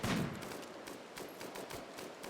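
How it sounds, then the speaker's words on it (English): Gunfire in a colony-building video game: a burst of rapid, faint shots that trails off into a scattered crackle of further fire. "Who's firing at what?"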